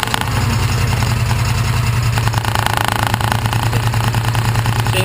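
A John Deere Gator 620i utility vehicle engine idles steadily and loudly up close, a continuous low throbbing rumble with an even pulse throughout and no voices.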